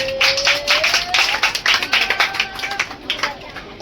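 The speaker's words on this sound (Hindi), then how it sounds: "एक जोरदार ताली दीजिए।" Audience clapping for a test winner called on stage at a classroom medal ceremony, loud rhythmic claps from a modest group, rising and falling with brief talk underneath.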